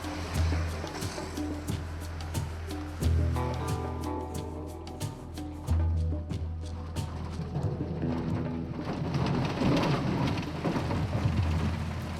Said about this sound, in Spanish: Está lloviendo bastante ahorita en la zona